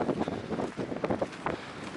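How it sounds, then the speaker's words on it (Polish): Strong gusty wind buffets the microphone on a winter mountain trail near a shelter, rising and falling in loud bursts with no clear talk. "Ale dzisiaj jest taki wiatr, ale jest piękna pogoda."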